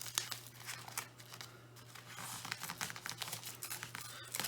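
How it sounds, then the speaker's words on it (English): A knife cutting open a bubble mailer and its packing tape, with dense crinkling, scraping and tearing of the plastic envelope over a steady low hum, close and moderately loud throughout. "Let's go ahead and take out the knife here and get this open."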